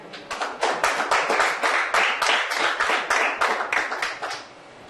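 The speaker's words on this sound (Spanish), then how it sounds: "Denle un aplauso a Dios." A church congregation applauding during a Spanish-language sermon, heard as many hands clapping together in a steady, fast rhythm of sharp, fairly close claps for several seconds before fading out.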